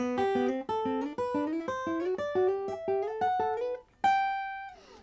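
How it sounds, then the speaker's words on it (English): A clean guitar plays a run of paired notes in inverted thirds or sixths, climbing step by step, each plucked crisply, ending on a sustained ringing chord that fades. "Basically, this is called inverted thirds or sixths"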